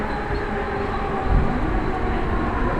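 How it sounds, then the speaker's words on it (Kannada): A Mumbai local train rumbles along its track while an opposite train crosses past, a dense continuous clatter that swells briefly midway, heard from on board. "ಅಪೋಸಿಟ್ ಟ್ರೈನ್ ಕೂಡ ಕ್ರಾಸ್ ಆಗಿ ಹೋಯಿತು"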